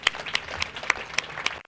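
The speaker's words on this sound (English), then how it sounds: "So we want to give a round of applause for Rob and their crew." Audience in a field house giving a round of applause, with loud, sharp claps standing out in a steady rhythm over a brief burst of crowd clapping that stops abruptly.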